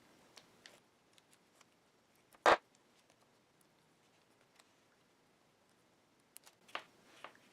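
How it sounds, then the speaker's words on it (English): Cutters snip through LED hoop tubing in a single sharp, close click, surrounded by near silence and a few faint ticks and rustles. "I'm just going to use some cutters. You can try it with scissors too, or maybe even an X-Acto knife."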